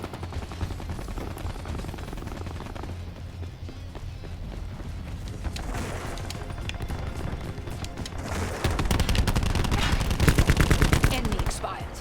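Sustained gunfire in Call of Duty Black Ops 4 multiplayer, rapid automatic bursts rattling continuously and swelling into a louder, denser barrage near the end, with faint game sounds beneath.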